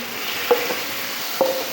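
Continuous sizzling of tempering spices in hot oil for masoor dal and rice, a steady hiss with a couple of brief clinks of a utensil against the pan.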